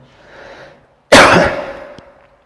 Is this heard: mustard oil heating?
no